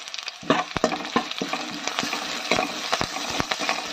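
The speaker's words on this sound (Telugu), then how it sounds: "ఇలాగా కరివేపాకు కొద్దిగా చిట్టుపట్లాడిన తర్వాత" Curry leaves crackle and spit in browning onions in a pan for village-style chicken curry, a steady close sizzle broken by frequent sharp pops and stirring sounds.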